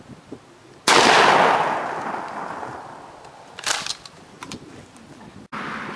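A shotgun fitted with a red dot scope fires at a target 20 yards away on an outdoor range: one loud, sharp blast with a long decaying tail, then a few fainter clacks.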